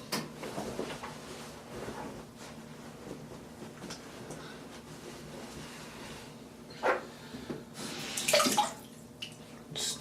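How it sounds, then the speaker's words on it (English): Tap water runs softly and continuously as a face is rinsed after a shave with a Rockwell 6C safety razor. A few small clatters and splashes rise near the end. "I'm going to rinse real quick"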